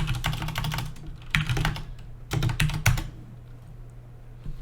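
Rapid clattering of computer keyboard keys in bursts, with short pauses between runs of typing, close and fairly loud over a low steady hum.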